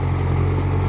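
A tractor plowing a flooded rice field in Laos, its engine giving a steady, close, loud low drone with a constant rumble and no variation over the brief moment.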